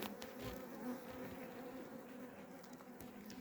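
Honeybees buzz close by around an open hive in a soft, continuous drone, the hum wavering as individual bees move around, with no talking.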